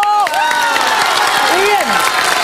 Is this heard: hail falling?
no